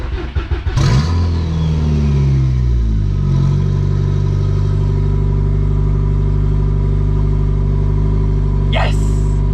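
A VW Golf 3 with a swapped 1.8T engine cranks and fires up, then drops into a loud steady idle up close, with a brief voice near the end.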